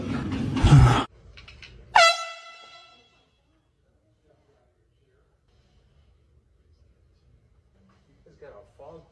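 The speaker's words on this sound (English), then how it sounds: "Oh, it was an air horn." An air horn in a video game lets out one loud, brassy blast after a short burst of voice, then fades to near silence with faint noises at the end.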